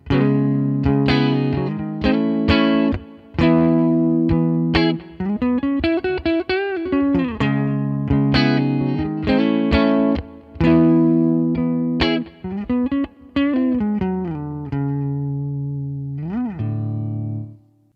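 Electric guitar on a humbucker pickup through an AmpliTube 5 amp simulation, lightly distorted with chorus-like shimmer, playing a melodic phrase of picked notes, bends and sustained chords alone and up front.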